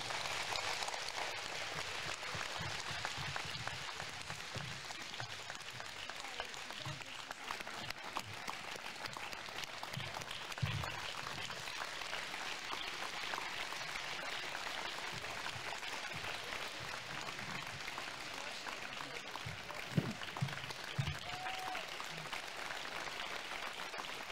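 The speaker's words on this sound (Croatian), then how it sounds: "Dame i gospodo, molim vas za još jedan aplauz" Audience applause at a Mediterranean and European film festival in Trebinje, a long continuous rain-like patter of many hands clapping, steady and moderately distant.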